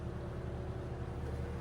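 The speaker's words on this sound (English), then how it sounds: "so we're running the water maker at the moment." A watermaker running aboard a sailing trimaran: a steady low mechanical drone and hum, constant and unbroken, heard alone with no voices.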